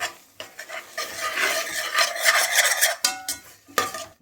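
Moong dal is stirred and fried in a pan in Telugu home cooking, making a close, continuous scraping rasp with a soft sizzle under it and brief pauses between strokes.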